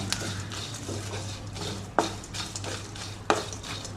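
Dried shrimp fry in a pan under steady stirring, a continuous close sizzle punctuated by a couple of sharp utensil knocks and scrapes, with a low hum beneath.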